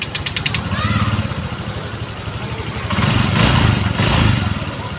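A 2017 Honda Vario 125 scooter engine with new piston rings starts and settles into a steady idle, its chugging hum rising slightly louder partway through.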